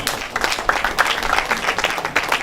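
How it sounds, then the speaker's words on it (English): Audience applause at an agricultural expo seminar in Nigeria, a steady spatter of clapping from a moderate crowd lasting a few seconds, faint voices mixed in. "Another round of applause for him."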